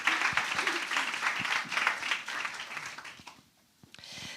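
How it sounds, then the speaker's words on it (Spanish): An audience at a 2023 municipal election debate in Benicàssim applauds the candidates, moderate steady clapping that fades out near the end with a brief lull before more sound. "Un aplauso para todos ellos."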